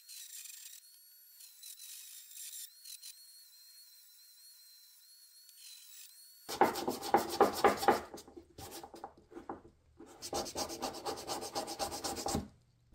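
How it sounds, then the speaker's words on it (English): A Dremel fitted with a drum sanding bit smooths and shapes dense maple wood for a rat wakebait lure, giving a loud, close, buzzing rub in bursts of several seconds with short pauses, after a quieter high whine at the start. "I used a drum sanding bit in my Dremel to smooth it out and refine the shape"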